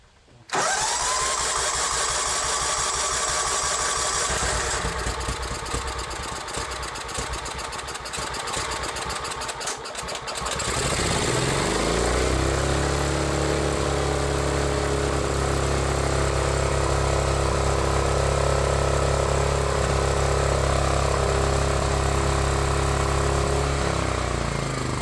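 A John Deere lawn mower converted into a racing mower runs its engine continuously and loudly, with a choppy, uneven stretch early on before it settles into a steady, deep, roaring drone.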